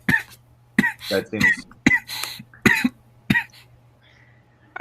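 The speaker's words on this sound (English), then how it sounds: "Coughing fit." A man breaks into a coughing fit, a series of sharp, close coughs and throat clearing in rapid bursts, with a few words spoken between them.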